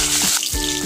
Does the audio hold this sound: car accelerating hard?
no